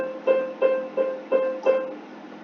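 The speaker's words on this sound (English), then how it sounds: "If I play multiple staccatos in a row, it will be like this." Five short, detached staccato notes on a pitched instrument sound one after another at an even pace, each a crisp separate tone with a quick decay, clear and close with no voice.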